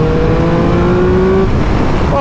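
Engine of a 2025 Triumph Speed Triple motorcycle on a ride, a loud steady close drone with a rising tone that drops off, then wind noise.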